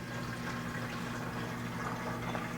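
Auto detailing liquid poured carefully from a bottle into a measuring container makes a steady, continuous gurgling trickle with a low hum underneath, close by and without talk.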